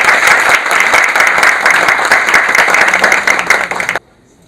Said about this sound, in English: Again, huge round of applause for Mr. Videy Khare.